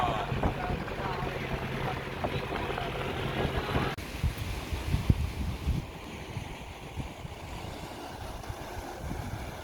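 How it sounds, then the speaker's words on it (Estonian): A small boat crossing a river near the ocean carries a steady hum of motor and water, with wind buffeting the microphone and people talking over it. "Sõidame paadiga."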